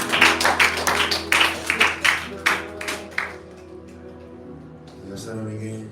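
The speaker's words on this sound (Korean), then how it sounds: "하나님 아버지께 감사의 박수를 드리겠습니다." Church congregation clapping in a steady, even rhythm, about a dozen claps over sustained music, then the clapping stops and the music carries on alone.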